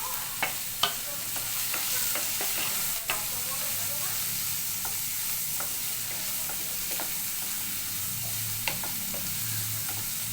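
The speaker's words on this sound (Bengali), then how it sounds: "দিয়ে একটু নাড়াচাড়া করছি, মিডিয়াম আঁচে গ্যাসটা রাখবেন।" Onion, chilli, peas, carrot and capsicum sizzle in a pan on medium heat while a spatula scrapes and knocks at irregular intervals, close and fairly loud, with no talking.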